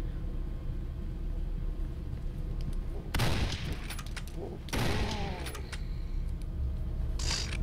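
Gunfire in the video game Condemned: Criminal Origins, two loud bursts of shots breaking through a low rumbling background, with some talk.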